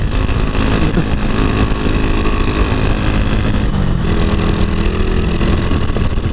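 Honda Wave 125 motorcycle fitted with a new spark plug, being ridden, its engine giving a loud, continuous droning roar mixed with wind rush.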